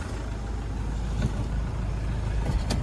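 A 2016 Mitsubishi Fuso FE130 box truck engine runs at a steady idle, giving a close, continuous low rumble with no misfire and no talking.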